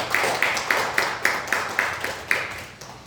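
A church congregation claps together in a steady rhythm of about eight even claps, all in unison and moderately loud and near, with no one speaking.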